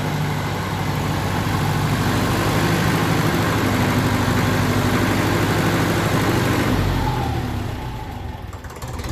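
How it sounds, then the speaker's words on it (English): Close to a 1954 Ferguson 20 TEF diesel tractor, its engine idles loud and steady with a low chugging note, the revs drifting slightly up and down before dipping near the end. "A little bit up and down on the revs, so there's definitely air getting in"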